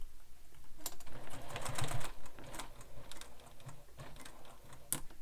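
Domestic sewing machine stitching along the edge of zipper tape on a bag, with short bursts of rapid mechanical clatter and pauses in between, close and moderately loud.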